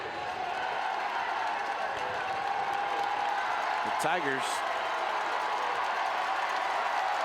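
A high school football crowd at a McKinley at Massillon game roars steadily in the stands. The cheering is broad and continuous, with a brief whistle-like burst in the middle, and a commentator speaks over it.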